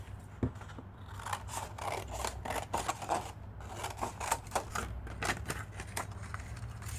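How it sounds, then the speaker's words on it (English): Scissors snip away excess paper around a die placement for a paper-craft Easter bag, giving a run of quick, close, crisp cuts and rustling over a low steady hum, with no one speaking. "I'm just gonna take this in place and cut the extra paper"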